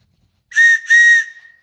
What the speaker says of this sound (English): And I've got a good whistle.